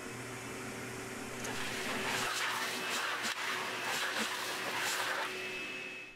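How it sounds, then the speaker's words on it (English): A workshop dust collection system starts by wireless remote, its blower rising into a loud, steady broadband roar that holds for several seconds before cutting off, with no talk over it. "with this wireless remote, I can turn on the dust collection for the shop with just a push of a button"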